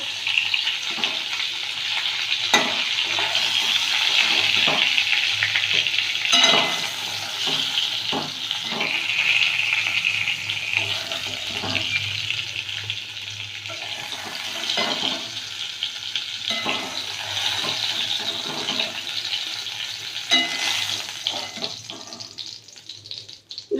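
Pointed gourd coated in mung dal fries in oil with a loud, steady sizzle, broken by repeated knocks and scrapes of a utensil against the pan.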